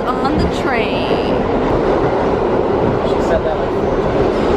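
Loud subway train ride, a continuous rumbling roar of wheels on rails with a brief rising squeal near the start, heard from inside the car.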